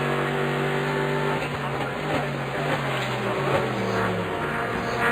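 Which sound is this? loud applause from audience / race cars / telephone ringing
race cars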